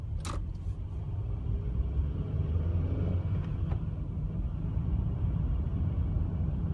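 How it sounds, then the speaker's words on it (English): Cars pass on the road, heard from inside a stationary car while waiting to move off, as a steady low rumble of traffic with a brief click near the start. "Now there's quite a few cars going past me, so I'm waiting."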